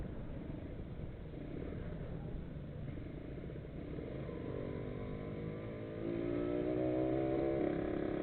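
Kawasaki Ninja 150RR two-stroke engine fitted with a PE 28 carburetor, idling with a steady rumble and then revving up, rising to a louder, higher whine toward the end.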